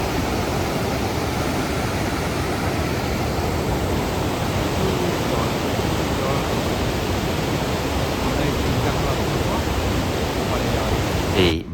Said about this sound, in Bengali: প্রচুর পরিমাণে জল যাচ্ছে, যেটা ওয়াটারফলস হয়ে এরকম লাগছে